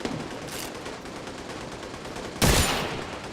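Marksman rifle shots in the video game Just Cause 4, sharp loud cracks over a constant noisy game background, with one especially heavy blast near the end that trails off.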